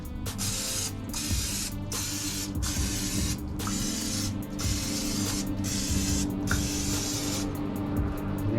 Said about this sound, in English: I'm gonna go on and spray these with some spray butter.